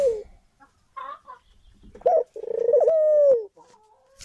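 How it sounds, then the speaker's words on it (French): A young white pigeon perched on a shoulder coos to call its mate, giving short soft throaty notes and then a longer rolling, rising-and-falling coo, heard close and alone. "il roucoule sur mon épaule. Il appelle sa femelle."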